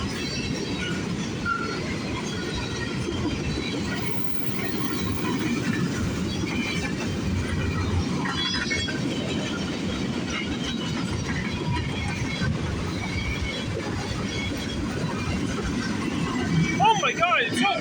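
CN freight train 301 rolling through the Sarnia, Ontario VIA station on a windy evening, its cars rumbling and clattering nearby in a continuous wash with faint voices underneath and a brief rising squeal near the end.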